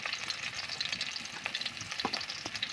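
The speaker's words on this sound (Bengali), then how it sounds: "তেল গরম হয়ে গেছে, এবার আমি রসুন কুচি রেখেছিলাম, রসুনটা দিয়ে দেবো।" Chopped garlic and ginger sizzle in hot oil in a home kitchen pan, a steady hiss with occasional crackles and a few soft stirring clicks throughout, moderately close and alone with no talk.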